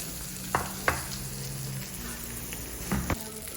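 Beef karahi sizzles on a hot plate at a resort hotel restaurant in Sreemangal, Bangladesh, a close, steady crackling hiss broken by a few sharp clinks and taps.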